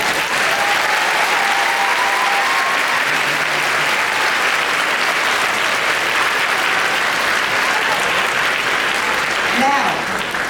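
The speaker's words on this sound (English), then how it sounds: "let's give them a round of applause" A graduation ceremony audience applauds graduates' families in a loud, sustained wash of clapping that fills the hall, with faint cheers or voices mixed in and no pause throughout.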